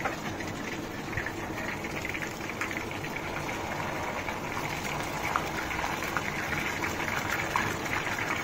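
Ghee boiling in a pan for making ghevar, a dense, steady bubbling and frothing hiss that stays even and close throughout, with no talk.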